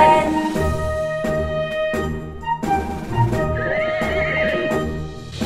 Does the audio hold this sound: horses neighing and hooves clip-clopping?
yes